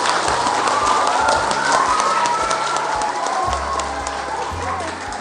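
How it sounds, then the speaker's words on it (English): An audience at a school award celebration applauds, with a continuous wash of clapping and some cheering mixed with crowd voices, steady and fairly loud before easing slightly. "Let's give Rose a big round of applause."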